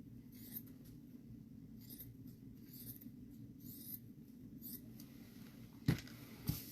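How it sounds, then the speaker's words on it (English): Faint, repeated snips and paper rustles from scissors cutting, spaced irregularly over a low hum, with a couple of sharper clicks near the end. "I'm going to take my scissors and trim pretty close."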